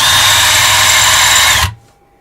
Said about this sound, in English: We're just going to deburr out here until we're not feeling any sort of lip or anything.